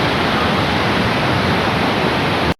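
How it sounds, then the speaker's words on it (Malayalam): Water pours continuously at Aruvikkara dam, a steady, loud, dense roar with no pauses until it cuts off abruptly near the end. "ഇവിടെ ഈ വെള്ളം വന്ന് വീഴുന്ന ഒച്ചയുണ്ടല്ലോ, അതൊരു പ്രത്യേക ഫീലാണ്."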